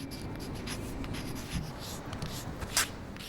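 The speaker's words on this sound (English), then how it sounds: "comes the faint sound of chalk, writing out the many reasons" Scratchy, rhythmic strokes of chalk writing on pavement outside a hospital, close and fairly soft, with a faint ambient hum behind.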